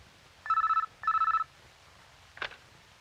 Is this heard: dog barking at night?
no